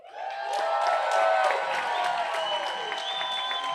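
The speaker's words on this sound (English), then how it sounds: "So everybody put your happy face on and clap for the graduates." The crowd at a graduation ceremony for Motivated Youth Academy's graduating class claps and cheers with whoops. The applause swells quickly into a loud, sustained, dense roar that holds steady throughout.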